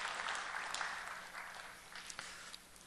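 A church congregation claps together in a steady wash of applause that slowly fades, heard from within a large sanctuary during a Sunday service.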